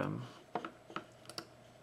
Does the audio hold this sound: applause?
no